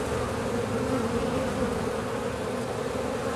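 Honeybees buzzing steadily and loudly during a bee removal as the queen is found, a dense continuous hum from many insects close by with no talk.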